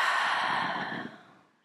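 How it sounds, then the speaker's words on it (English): A deep, steady exhale during a yoga breathing exercise, loud and close, fading out gradually over under two seconds with no talking. "Breathe in. And breathe out."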